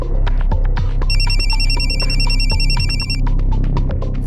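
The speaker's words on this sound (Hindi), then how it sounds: "फोन आ गया तुम्हारा?" A telephone rings indoors in a dramatized crime scene, loud and close with repeated electronic trilling bursts over a low background hum, no one speaking.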